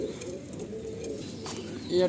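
Pigeons coo in a summer loft of high-flying Chennai, Andhra, Malwai and Madrasi pigeons, low soft calls rumbling continuously close by while someone talks over them.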